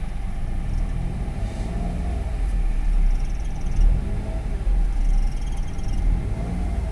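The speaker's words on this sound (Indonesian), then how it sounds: "Dari suara mesin mobil penulis ini suaranya halus ya." A Daihatsu Ayla engine runs steadily with a low rumble, heard close and fairly loud, with no one speaking.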